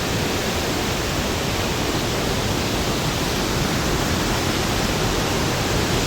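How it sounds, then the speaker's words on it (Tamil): A waterfall pours out of a cave at the foot of a mountain, giving a steady, dense, broadband roar of rushing water. It is close and fills the whole stretch evenly, with no voices. "அந்த மலை அடிவாரத்திலிருந்து ஒரு குகைக்குள்ளிருந்து இந்த தண்ணி அப்படியே பாய்ந்து வருகிறது."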